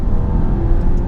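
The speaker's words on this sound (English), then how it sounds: "that turbo kicks in so quickly" A 2017 Alfa Romeo Giulia Ti turbo engine pulling hard under acceleration, heard from inside the cabin as a loud, steady low drone with muted exhaust.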